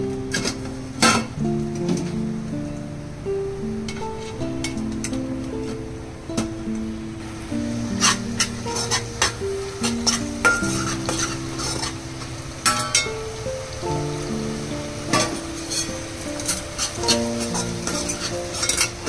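Chole masala is stirred into a simmering, sizzling gravy in a pan, with steady scraping and clinking of the spoon against the metal over a constant frying hiss. A few louder knocks stand out, and no one speaks.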